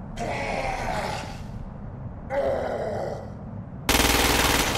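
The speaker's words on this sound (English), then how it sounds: "The ordnance you now hold is a standard-issue agency assault rifle. Use it to kill the freak, without assisted targeting." Assault rifle fire in the video game Crackdown 2, three bursts with short gaps between them. The final burst is the loudest and harshest, and it runs to the end.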